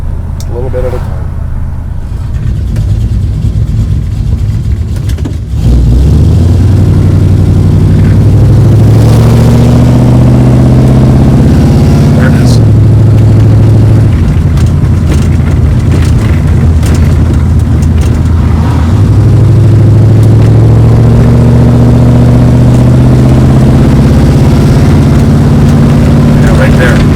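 A 1973 Dodge Dart Swinger V8 engine with an annoying whine and rattle runs loud and close, idling and then revving up repeatedly, its pitch climbing and falling in several surges.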